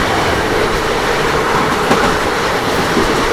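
Aboard a train running through Harihar railway station without stopping, a loud continuous roar of wheels and carriages fills the sound, with rhythmic clickety-clack over the rails.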